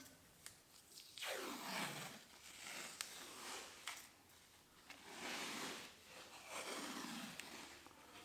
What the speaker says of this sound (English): Try a little painter's tape here.